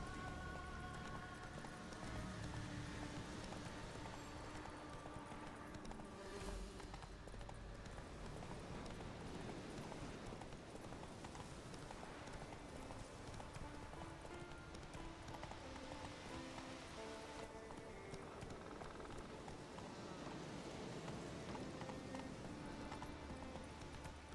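Hoofbeats of a galloping horse in The Witcher 3, a steady, continuous clip-clop rhythm running throughout at a fairly quiet, even level, with no talk over it.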